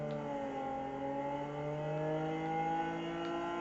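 A car engine in Cyberpunk revs steadily while driving, its rising harmonic drone loud and continuous, pitch climbing gradually with no talk over it.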